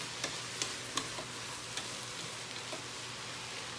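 Spinach wilting in a pan during pasta cooking gives a steady, quiet sizzle, with a few soft ticks and clinks of stirring scattered through it and no voices.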